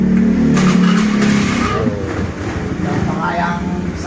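A Honda Beat scooter engine idles and revs after a battery replacement, a loud nearby motor rising briefly then settling into a steady running drone, with a person talking over it.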